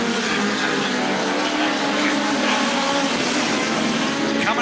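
NEMA midget race cars roaring around Riverside Speedway, a dense continuous engine drone from several cars at once, loud and unbroken.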